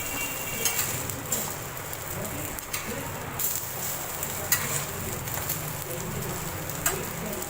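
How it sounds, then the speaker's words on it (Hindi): Beef shami kababs sizzle steadily in hot oil in a pan, a dense continuous frying crackle with occasional brief pops and clinks, while someone talks over the cooking. "इसे मैं फ्राई करके फिर आपको दिखाती हूँ"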